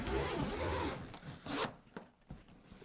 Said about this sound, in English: So we'll open up the zips on this